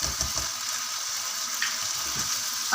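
Capsicum frying in a pan for chicken Alfredo pasta, giving a steady close sizzle with a few soft low knocks from the pan.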